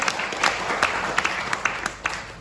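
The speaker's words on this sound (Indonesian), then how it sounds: "beri tepuk tangan untuk kemuliaan Tuhan" Congregation clapping at a church service with speaker Wilson Pribadi, a dense mid-level wash of applause with scattered sharper claps throughout, no voices standing out.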